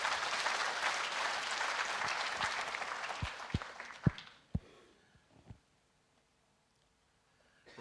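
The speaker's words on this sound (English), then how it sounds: "Can we just give her a round of applause again," Audience at an entrepreneurial fair applauding a speaker, a full burst of clapping that thins out to a few last isolated claps and then fades into near silence.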